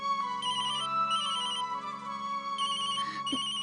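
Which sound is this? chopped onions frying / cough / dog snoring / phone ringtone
phone ringtone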